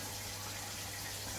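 Tap water runs steadily for brewing a milkshake IPA, a constant close rushing gush with no pauses over the short stretch.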